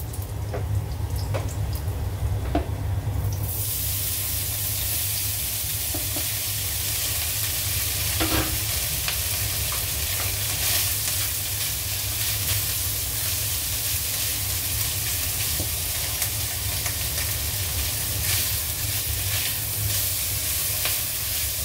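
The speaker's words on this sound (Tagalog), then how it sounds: "Ipiprito natin yung ating luncheon meat." Luncheon meat fries in a pan for fried rice, giving a loud, steady sizzle that runs unbroken for the whole stretch with no talking.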